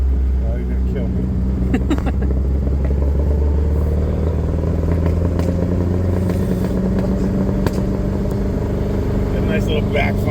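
A 1979 MG Midget engine runs loud and close with a rough, steady idle and a carburettor fault, with sharp clattering pops of backfire scattered throughout and people talking over it.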